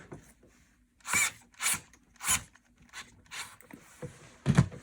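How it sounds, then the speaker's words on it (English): A hose clamp being tightened on a backpack sprayer hose, six short rasping turns in an uneven rhythm, close and fairly quiet, with no talk. "retrieve the hose clamp, and then tighten up"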